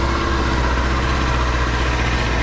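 A 2023 Kawasaki Ninja 400 motorcycle idles steadily at slightly raised revs while still cold, a continuous low engine hum with no talk over it.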